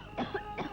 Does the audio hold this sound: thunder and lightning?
no